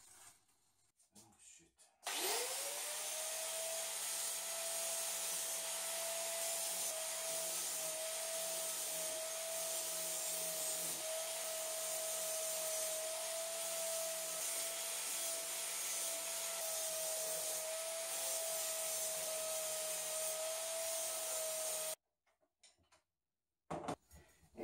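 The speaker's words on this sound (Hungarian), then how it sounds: "És akkor most jön a csiszolgatás." A power sander works over an antique French adjustable wrench during restoration, a loud steady whining hum with a constant pitch that runs unbroken for about twenty seconds before cutting off, with brief handling noises at either end.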